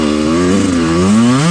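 A Kawasaki two-stroke dirt bike, a 125 KDX pulled from a barn, passes nearby with a loud, buzzing engine whose pitch rises as it revs, heard alone without talk.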